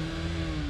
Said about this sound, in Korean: 엔진 소리는 아주 우수하네요.